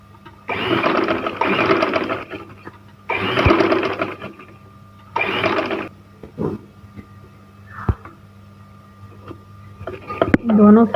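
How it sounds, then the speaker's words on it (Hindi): A sewing machine stitches trouser fabric for a decorative leg-hem design, running in three long loud bursts with pauses, then shorter bursts toward the end, with a steady hum between runs. "अब हम इसके साथ सिलाई लगाएंगे।"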